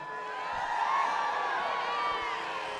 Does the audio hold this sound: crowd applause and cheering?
yes